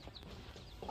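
Baby chicks of an ornamental breed, about five days old, peep in soft, brief chirps close by against a steady low background, with a brighter cheep near the end.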